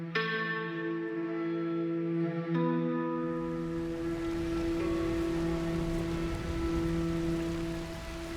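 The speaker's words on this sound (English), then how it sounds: "Have you noticed on top of everything else, it's raining?" Steady rain patters across surfaces in the video game Red Dead Redemption 2, a constant hiss layered with sustained low tonal hums and drones, with no voices.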